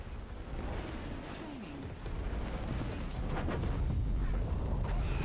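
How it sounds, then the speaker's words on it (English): An enemy base blowing up in a Three Kingdoms strategy game, a rumbling, rolling series of explosions and booms that grows louder and denser over several seconds. "Their little base exploding."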